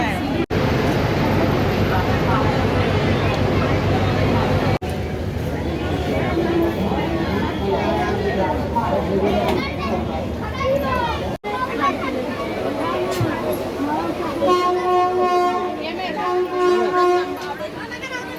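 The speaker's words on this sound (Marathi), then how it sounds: "तर इथे ट्रेन आलेली आहे." Train pulling into a station platform, a steady rumble and rail noise mixed with a busy crowd of chattering people and children, with a tonal whine or horn toward the end.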